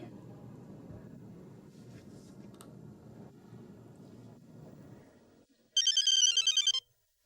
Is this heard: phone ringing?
yes